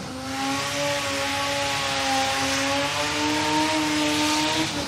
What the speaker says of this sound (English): Smoky burnout, the little Corolla.